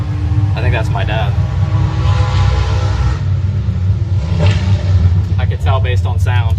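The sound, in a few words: 1,000 horsepower drag racing car engine roaring down strip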